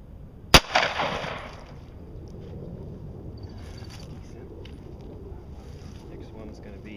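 A single sharp gunshot from a 9mm pistol firing a hollow point round at a milk jug cracks out close by near the start, then fades into steady outdoor wind noise.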